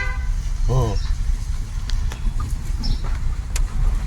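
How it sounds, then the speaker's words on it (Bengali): A car horn gives one short toot at a turning point during a driving lesson, rising briefly above steady engine and road noise while people talk. "হর্ন দাও, টার্নিং পয়েন্ট।"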